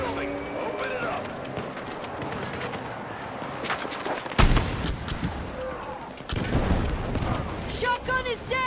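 Gunfire in a military shooter video game: scattered shots and bursts with a heavy impact midway, then a louder sustained barrage, while voices talk over the action.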